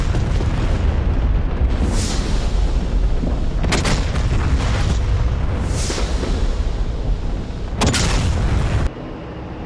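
Rockets from an A-10A Warthog striking ground targets in the DCS combat flight simulator: several heavy booming blasts spaced a couple of seconds apart over a constant loud engine rumble.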